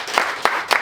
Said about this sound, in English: If Mark's your winner, give a round of applause.